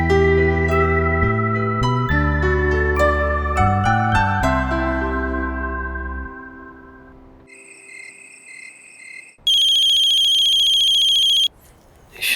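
An incoming call rings out as a melodic phone ringtone, a bright descending tune of repeated tones, followed by sharp electronic beeping and a sustained high tone, with no talking.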